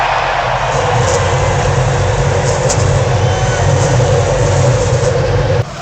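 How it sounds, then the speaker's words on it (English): IndyCar race car engines at the Indianapolis 500 roar together in a steady, dense, loud drone with a deep low rumble, continuous for several seconds before cutting abruptly at the end. "Drivers, start your engines."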